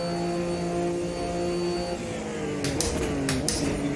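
A Porsche 962C racing car at Daytona in the AMS2 sim game, engine holding a steady high drone, then sharp hissing bursts from the blow-off valve near the end, loud and continuous with no voices.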